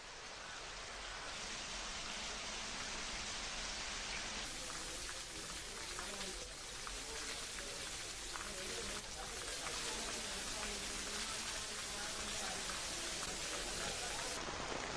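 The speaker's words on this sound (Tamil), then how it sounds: "வடமாகாணத்தில் கடும் வறட்சிக்கு பின்னர் இன்று பலத்த மழை பெய்துள்ளது" Heavy rain pours down in a steady, dense hiss across the whole stretch, loud and unbroken, with scattered drops spattering on surfaces after a long drought in Sri Lanka's Northern Province.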